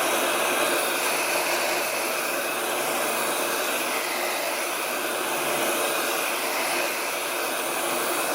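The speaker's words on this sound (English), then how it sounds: "if you want this to dry quickly, you can use your hairdryer for this" A handheld hairdryer blows steadily to dry paint on a cartoon penguin drawing, its loud, even whoosh running unbroken from start to finish with no talking.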